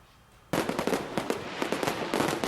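Fireworks burst suddenly after a quiet moment, then keep going as a dense run of loud crackling pops and bangs.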